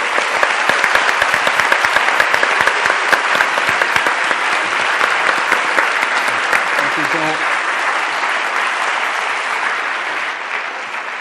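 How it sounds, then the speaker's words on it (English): An audience at an evening conversation event applauds two speakers, a loud, dense, continuous wall of clapping that tapers gently near the end, with a brief voice surfacing midway. "je vous demande d'applaudir nos deux collègues"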